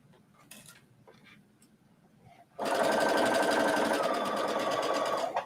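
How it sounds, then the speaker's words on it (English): A sewing machine stitches in a shirt sleeve, starting abruptly after quiet handling noises and running at a fast, even, rattling rhythm close by until it stops. "I sewed in my sleeve first, which is way easier than trying to fit it into the side."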